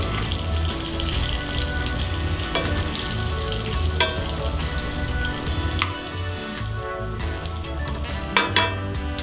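Morel mushrooms frying in melted butter in a pan, a steady close crackling sizzle with scattered pops and a few sharper clicks, no voices over it.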